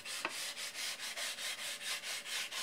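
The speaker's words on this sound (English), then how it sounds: "Finally finishing off with some more sanding" Hand sanding of a wooden model airplane wing, a steady back-and-forth scratching in even, regular strokes about four per second, close and moderately quiet with no talk.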